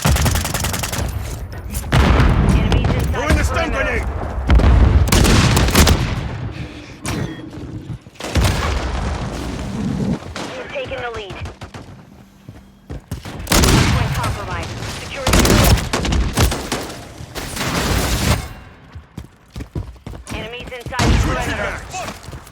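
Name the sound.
akimbo shotguns firing in Modern Warfare 3 video game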